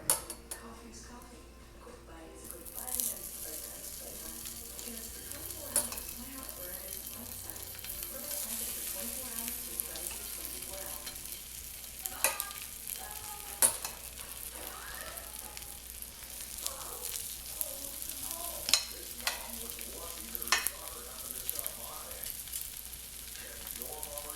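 Slices of Spam fry on a tiny homemade soda-can stove outdoors, giving a soft, continuous sizzle with occasional light metallic clinks of a utensil against the pan. The sound is faint and close throughout.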